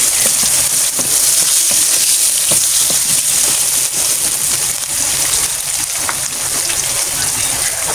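Garlic and onion hitting melted margarine in a pan for sopas, a loud, dense, continuous sizzle with faint crackles and stirring taps throughout, close up and alone.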